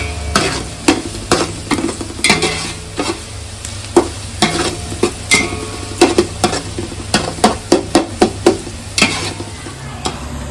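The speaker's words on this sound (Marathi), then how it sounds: "कांदा आता छानपैकी आपला भाजला आहे फोडणी छानपैकी तयार झाली" Three or four finely chopped onions fry in hot oil for a spiced tempering, a spatula scraping and tossing them in repeated sharp strokes over a continuous close sizzle, with no voices.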